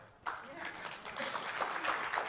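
Audience applause at a Microsoft Ignite 2015 tech conference session breaks out suddenly and holds steady as a dense wash of clapping from a large crowd, with some talk mixed underneath.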